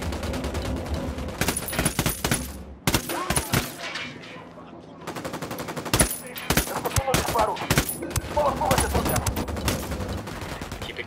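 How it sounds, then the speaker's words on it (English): Dense bursts of automatic rifle fire and single shots from a Ghost Recon Wildlands skirmish crackle loudly almost throughout, with a brief lull near the middle before the shooting resumes in heavy volleys. "I'm opening fire on these shitheads"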